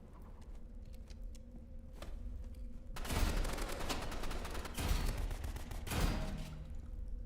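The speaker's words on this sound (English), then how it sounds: "He's just shotgunning me" Gunfire in a pixel-art video game, heavy shotgun-style blasts landing in loud bursts around the three- and six-second marks over steady background game noise, with smaller crackles before them.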